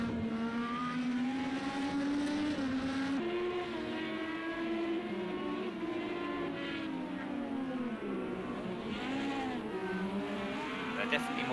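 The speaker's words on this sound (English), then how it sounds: "it has been wild with these Indy cars, these high downforce monsters" High-downforce Indy race cars roar around the Imola circuit in the racing game Project Cars 2, with a continuous loud engine whine rising and falling through shifts and a voice talking underneath.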